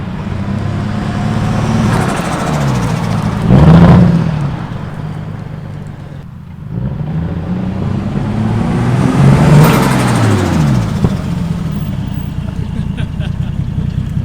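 A Toyota Supra engine runs loud and close: a steady idle with two distinct revs rising and falling, and people talking over it.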